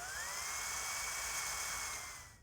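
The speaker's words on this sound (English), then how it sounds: "drill holes through the stripping and the molding" A power drill bores holes through weather stripping and molding inside a custom truck interior, a steady high whine that runs close and continuous before easing off at the end, with no talking.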